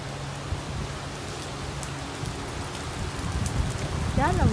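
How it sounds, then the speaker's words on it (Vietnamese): Heavy rain pours steadily in a park, a dense hiss of drops on surfaces growing slightly louder, with a voice briefly audible near the end. "Chết là mưa lớn rồi."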